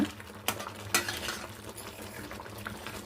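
Tomato rasam is stirred after tamarind powder, roasted peanut powder and niger seed powder go in, with soft scraping knocks against the pot and a faint simmering hiss, near and without talk.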